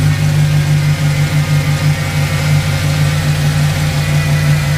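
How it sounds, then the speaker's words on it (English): LS V8 swapped into a 1978 El Camino G-body with long tube headers, idling with a steady deep rumble and a slight pulsing lope, loud and close, no talk. "It's not real loud, but it's got a nice rumble to it. You can definitely hear them long tube headers."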